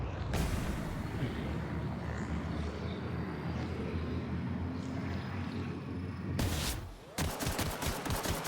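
Dense, continuous gunfire from a corrosive weapon in the video game The Outer Worlds, loud and rolling, ending in a short burst of quick, separate shots.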